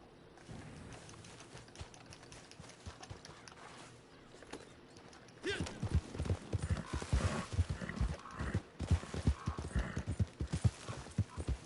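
Horse hooves clip-clopping in the video game Red Dead Redemption 2 Online, soft and sparse at first, then louder, quicker rhythmic hoofbeats on hard ground as the horse picks up pace.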